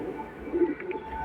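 A pigeon in a loft gives a short, soft, low coo, heard close and alone against quiet background noise.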